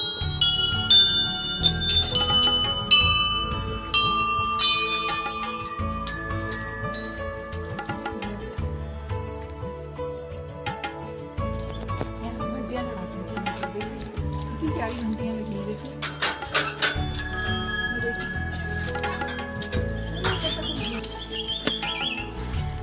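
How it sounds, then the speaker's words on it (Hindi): Temple bells rung repeatedly at a temple entrance, bright metallic clangs ringing out and overlapping in an irregular rhythm, loud and close, with a low rumble of people and ambient noise underneath. "मम्मी घंटियाँ बजाती हैं।"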